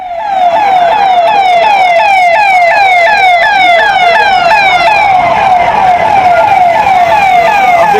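A loud police siren wailing in rapid repeating sweeps, close and continuous, with traffic noise underneath.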